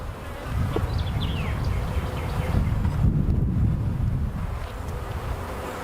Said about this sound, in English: Got a wasp.